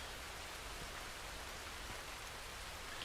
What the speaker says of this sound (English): Yeah, the rain is back.